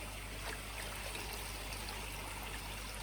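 A pond filter is dipped up and down in a koi pond, giving a continuous faint trickling, splashing water sound with no speech.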